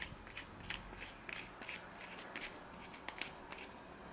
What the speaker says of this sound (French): Et cette fois-ci, l'outil, on le visse.